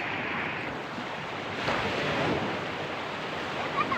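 Sea waves wash steadily onto the shore on a seaside morning, a continuous broad rushing hiss with gusts of wind buffeting the microphone and a slight swell about midway.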